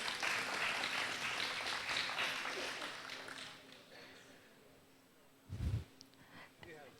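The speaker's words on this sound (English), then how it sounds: "let's give a big round of applause and thank you to our sponsor" Luncheon audience applauds a sponsor, a full round of clapping that fades over several seconds, followed by a brief thump and scattered sounds as a voice begins.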